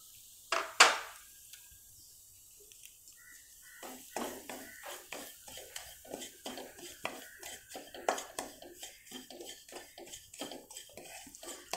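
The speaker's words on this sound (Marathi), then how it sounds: "आता पुन्हा मी थोडंसं तूप घालते आणि यावर आपण जो बारीक रवा घेतला आहे तो छान भाजून घेते।" Fine semolina being roasted in ghee in a pan for sunflower-seed laddu: a couple of sharp clinks, then a steady run of quick rhythmic spatula scrapes and taps against the pan, close and fairly faint.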